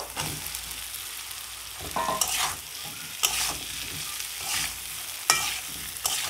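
Boiled taro is stirred and sautéed with spices in a hot pan, with a continuous soft sizzle broken by several louder scraping stirs of the spoon. No one speaks.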